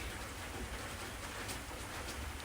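Rain falling steadily outdoors at a scenic viewpoint, a faint, even hiss of drops with no break.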